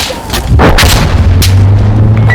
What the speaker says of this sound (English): Para de cair essas bombas